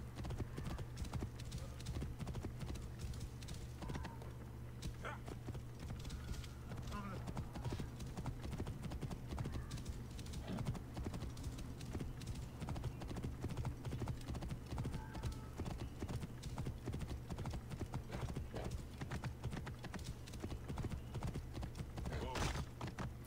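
A horse galloping in the video game Assassin's Creed Origins, a continuous rapid clip-clop of hooves close by with a steady rumbling rhythm, occasional snorts, and faint speech underneath.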